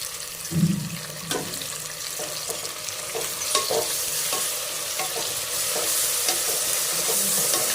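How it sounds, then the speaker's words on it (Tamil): Chopped onions, tomatoes and green chillies sautéing in a pan for chicken masala biryani: a loud, steady sizzle with scraping stirs and wet, watery bubbling, continuous throughout without speech. "ஒரு 5 மினிட்ஸ் நல்லா வதக்கிடுங்க"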